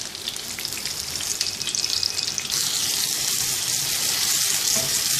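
Beef chapli kebabs fry in hot oil for a Peshawari recipe, giving a steady, close sizzling hiss that grows denser and more even partway through, with no talking.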